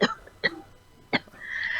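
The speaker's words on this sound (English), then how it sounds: "You gonna cough out a lung" Three sharp coughs ring out in quick succession, close and fairly quiet, followed by a faint lingering tone.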